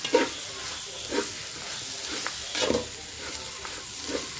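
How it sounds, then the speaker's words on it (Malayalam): Tomato and spice masala sizzles in a pan as a spoon stirs it, giving a steady frying hiss with repeated soft scraping taps at an irregular pace. "ഇനി വീണ്ടും ഇത് നല്ലപോലെ ഒന്ന് ഇളക്കി കൊടുക്കാം"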